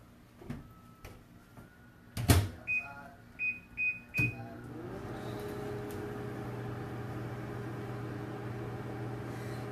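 A microwave oven melts brownie ingredients: a few knocks and a door thud, a run of short beeps, then a steady low hum as it runs alone, close and moderately loud.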